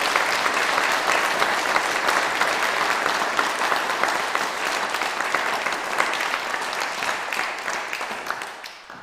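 A room full of people applauds award recipients at a BEM investiture ceremony, steady continuous clapping at moderate loudness that slowly fades toward the end.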